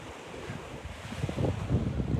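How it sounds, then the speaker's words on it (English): Spring water flows in from Mount Arbel near an archaeological site, a soft, steady outdoor rush that swells slightly toward the end, with some wind-like noise and no talking. "This is water coming in from the springs coming out of Mount Arbel"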